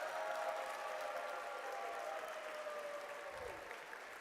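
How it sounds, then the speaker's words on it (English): Audience applause at a FIRST Tech Challenge robotics qualifier in Virginia Beach, a sustained, even clapping from a large crowd in a big hall, moderately distant and gradually easing off. "Let's give a round of applause and some recognition to our runner-up,"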